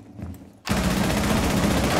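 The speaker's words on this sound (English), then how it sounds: "I hear gunshot from there." After a short quiet lead-in, sustained automatic gunfire erupts loud and continuous in the video game Rainbow Six Siege, a rapid unbroken rattle with no talk.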